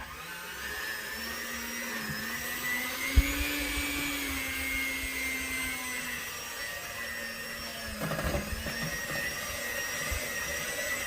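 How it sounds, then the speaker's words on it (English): A blender mixing casting investment for 14kt gold casting whirs in a steady, fairly loud drone with slight pitch shifts and a brief knock partway through. "I got a blender over here that's runs a little slower than this one."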